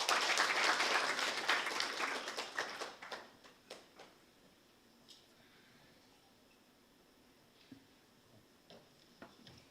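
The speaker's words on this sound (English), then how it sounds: "Please clap for Group 5 as it comes up." Audience applause for a group at a national youth convention rings out loudly at first, then thins to a few scattered claps and taps that trail off over several seconds.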